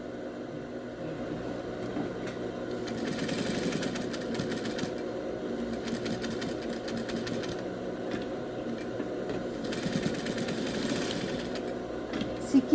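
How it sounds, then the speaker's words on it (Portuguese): A sewing machine topstitches along the side seam of a sewing-kit project, running as a steady mechanical whir at close range for the whole stretch with no pauses. "Você vai passar um pesponto na lateral."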